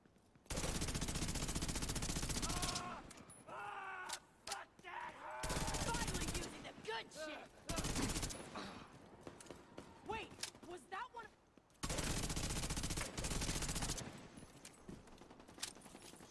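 Long bursts of machine gun fire in the video game The Division 2, set in New York, come in repeated loud, close volleys separated by gaps where a voice speaks and other game sounds clatter.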